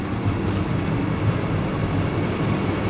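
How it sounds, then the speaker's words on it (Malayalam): Vande Bharat Express, the 20632 Trivandrum Central to Mangalore Central service, rolling into a station platform: a steady close rumble of wheels and carriages with faint metallic squeal, no voices. "20632 Trivandrum central, Mangalore central Vande Bharat express കയറി വരുന്നുണ്ട്."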